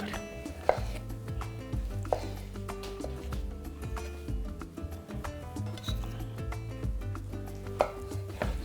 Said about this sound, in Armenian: մանր կտրատում և ավելացնում ենք